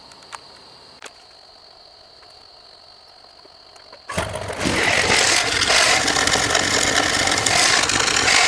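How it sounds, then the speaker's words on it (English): A propane-fuelled lawn mower engine starts loud and rough about halfway through, after a quiet stretch with a couple of faint clicks. It keeps running hard as it tries to tow a rig. "see if the propane mower will pull"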